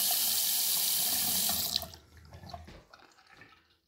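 Water runs steadily from the cold side of a bathroom faucet, a loud, close hiss that stops abruptly and leaves faint drips and small sounds fading into quiet.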